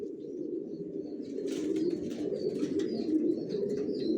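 Racing pigeons in a loft cooing in a steady, continuous low murmur, close by, with some faint chirps and wing flutters mixed in.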